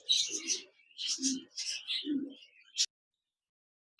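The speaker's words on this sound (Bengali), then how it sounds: "খাঁচা নাম্বার আশি এখানে দেখতে পাচ্ছেন একজোড়া গ্রিন ফিশার লাভবার পাখি রয়েছে" A pair of green Fischer's lovebirds in a cage at a bird seller's give repeated shrill, chattering calls in close bursts, then fall silent near the end.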